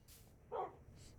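A single short dog bark in the dark game world of Twilight Exile, moderately loud against quiet ambient background, with no talking.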